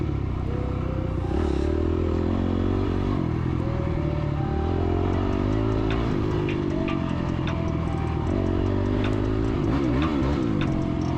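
A dirt bike engine revs and drones steadily during a hare scramble race on a sand track, pitch rising and falling, with faint clatter in the background.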